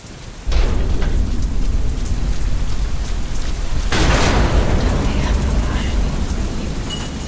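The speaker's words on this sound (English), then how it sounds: "Storm." Stormy weather in the video game Deadlight: a steady roar of heavy rain with a deep rumble of thunder, swelling louder partway through and holding a dense, continuous wash to the end, with no voices.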